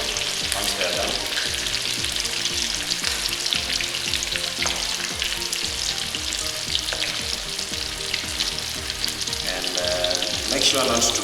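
Chicken pieces fry in hot oil with a loud, dense, continuous crackling sizzle close to the microphone, and occasional stirring sounds mixed in.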